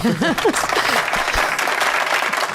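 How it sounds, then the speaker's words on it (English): A played applause track on a radio show, steady dense clapping filling the clip, with a voice speaking briefly at the start. "I love that applause track."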